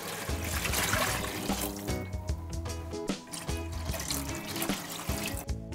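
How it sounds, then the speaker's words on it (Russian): Water pours into a cooking pot of fried onion and carrot for a lentil soup, a steady splashing, filling stream close by with no talk. "вливаем воду"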